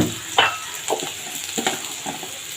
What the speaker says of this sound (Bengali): এটাকে একটু ভালো করে লাল লাল করে ভেজে নেব